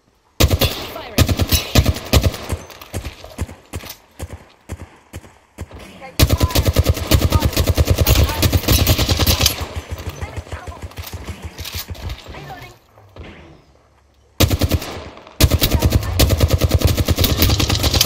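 Rapid automatic gunfire from the Apex Legends video game rattles loudly and close in long bursts, broken by short pauses and a quieter stretch.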